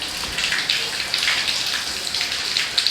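Water pump driven by two 12V DC motors, running on battery or solar power, pulling water with a steady splashing, gurgling hiss, like a stream pouring onto a surface, close and continuous with no talk.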